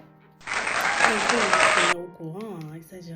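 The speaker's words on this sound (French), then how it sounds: "Est-ce que le peuple peut applaudir?" Audience at a women's empowerment gathering bursts into applause for about a second and a half, a dense burst of clapping, after which someone speaks over the quieter room.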